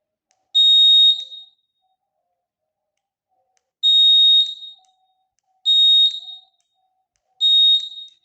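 Buzzer in a simple series circuit with an LED, cell, switch and connecting wires gives four short, shrill high-pitched beeps, loud and close, with pauses between them and silence around each.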